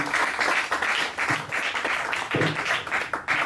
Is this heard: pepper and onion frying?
no